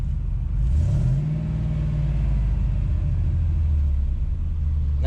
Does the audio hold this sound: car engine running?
yes